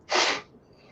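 A single sharp sneeze bursts out close by, followed by a brief breathy tail and quiet.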